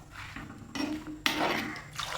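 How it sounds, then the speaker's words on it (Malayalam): Water splashes into a cooking pot of dry fish aviyal in two short, close pours, separated by a quieter pause with faint metallic clinks. "കുറച്ച് വെള്ളം ഒഴിച്ച് ഇതിനെയാണ് വേവിക്കുക"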